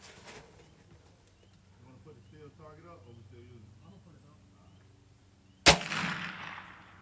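One loud, sharp BXR rifle shot at a 200-yard range rings out near the end, followed by a decaying echo, after a stretch of quiet talking from people nearby.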